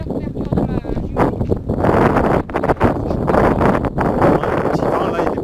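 Outdoors in the countryside, wind buffets the microphone with steady rumbling gusts while people talk throughout.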